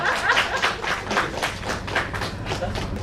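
Applause at a one-day technical seminar, with scattered hands clapping in an uneven rhythm close by, mixed with thumps and light talk.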